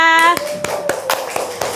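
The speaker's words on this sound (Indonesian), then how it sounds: "Beri tepuk tangan dulu untuk kelompoknya Mbak Raisa" Children clap for a classroom group, a few separate sharp claps spaced out over a faint background, following a brief tonal sound at the start.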